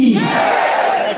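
A crowd at a One Nation One Election gathering in India shouts a victory chant in unison, a loud, dense roar of many voices held for just over a second.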